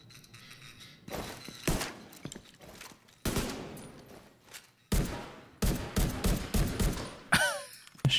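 Bursts of rapid gunfire in uneven volleys from the video game The Division 2, loud and close, separated by brief pauses, with a short electronic whine near the end.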